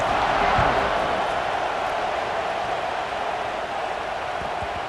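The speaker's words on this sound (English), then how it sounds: "this crowd is buzzing after that last score" A stadium crowd in the video game EA Sports College Football 26 keeps up a steady, dense buzz, loud and unbroken throughout.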